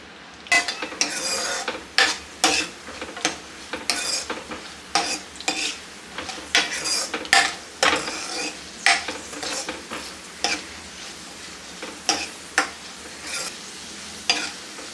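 Sabudana fries on a low flame in a pan while a spoon stirs and scrapes it in repeated sharp strokes over a soft, continuous sizzle.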